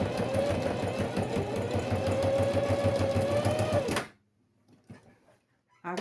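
A sewing machine runs in a fast steady whir while stitching a seam on fabric for a small handmade box, then stops abruptly, leaving near silence broken by a few faint handling clicks.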